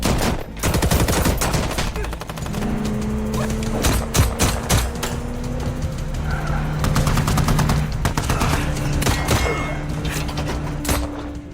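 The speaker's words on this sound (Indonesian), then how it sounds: "bala bantuan Rahmat terus berdatangan, sehingga para Expendables terpaksa kembali terlibat baku tembak sengit." Automatic gunfire fills a film gunfight from The Expendables 4, with rapid loud bursts of shots cracking continuously alongside vehicle noise and skidding, dense and intense throughout.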